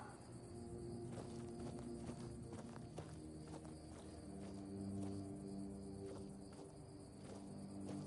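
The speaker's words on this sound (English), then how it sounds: "Horse." Horse hooves clip-clopping in the Tainted Grail video game, a steady walking rhythm of hoofbeats against a quiet background of crickets and insects, faint overall.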